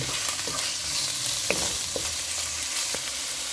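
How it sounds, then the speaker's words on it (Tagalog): Chicken breast with garlic and onion stir-frying in a pan, a continuous bright sizzle broken by a few sharp scrapes and taps of a spatula stirring. "Ilagay na natin ang ating chicken breast."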